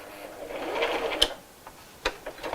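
A sewing machine runs a short burst of reverse stitching on a child's first tote bag. It gives a brief, close mechanical whir with a clack at the end, then a few light handling clicks, and no one speaks.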